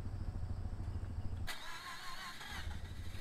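A car engine in Car For Sale Simulator 2023 cranks and catches midway, a sharp start followed by a steady idle, with low rumble before and after.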